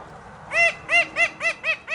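Billy, a duck, giving an unusual quack: after a quiet start, six evenly spaced, loud, clear nasal calls in a steady rhythm, close and alone.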